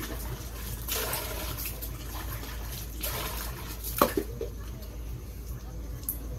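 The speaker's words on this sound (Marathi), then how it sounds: "ह्या सगळ्या झाडाला आता पाणी घालायचं" Plants are watered outdoors after dark, with splashing and pouring water in uneven bursts over a low, steady background hum.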